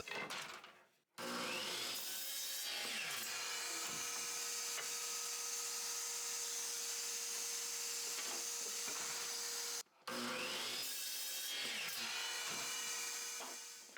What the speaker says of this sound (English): For the handle I'm using this leftover piece, which I'll cut into 3.